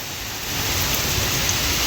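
Heavy rain pours steadily in a broad, dense hiss during Cyclone Remal, loud and close throughout with no voices.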